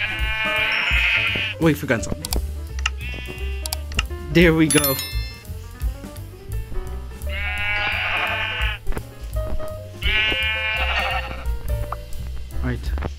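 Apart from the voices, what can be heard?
sheep bleating in Minecraft, a video game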